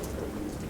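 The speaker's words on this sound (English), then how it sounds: "As the rain actually starts in earnest now, this kind of almost freezing rain" Near-freezing early-winter rain falling as a soft, dense patter, a brief steady hiss with no talking.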